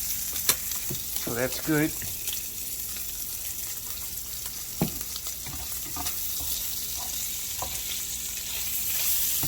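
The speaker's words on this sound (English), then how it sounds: "you can see the cheese starting to boil just a little bit" Cheese and bacon bubbling and sizzling in a pan, a steady close crackling hiss with occasional pops and scrapes, and a short stretch of talking over it near the start.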